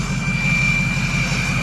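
A 6.0 Powerstroke diesel engine held at its rev limiter produces a loud, steady, droning roar with a sustained whine on top, heard close and alone without talk.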